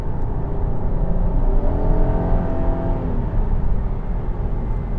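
Engine of a 2018 Volkswagen Passat GT while driving, a loud continuous drone with a rising rev in the middle, heard from inside the car without any talking.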